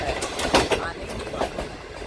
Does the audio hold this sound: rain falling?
no